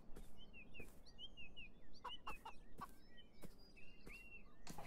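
Chickens in the video game Beyond Eyes give short repeated clucks and chirpy calls scattered across a few seconds, moderately close, with no talking over them.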